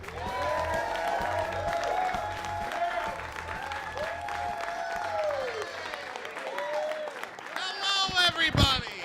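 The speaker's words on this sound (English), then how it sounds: "Keep that round of applause going if you are happy." Audience applause greets a comedian at a comedy club, steady dense clapping throughout while someone talks over it, then a few louder cheers near the end.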